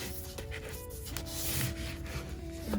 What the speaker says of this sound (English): I recommend you go over it with a little bit of sandpaper just to roughen it up a little bit